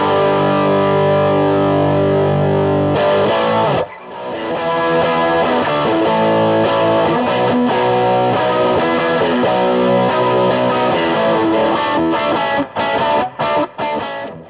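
An ash Telecaster with noisy single-coil pickups plays through a Mesa amp in Mark IV mode, set for heavy metal distortion: a loud, dense, saturated riff with a brief dip near four seconds and choppy stops at the end.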